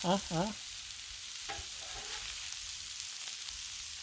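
Shrimp sear on a turned-up Blackstone griddle, a steady sizzle running throughout with a few brief stirring scrapes near the start and one sharp metallic tap later, close and moderately loud.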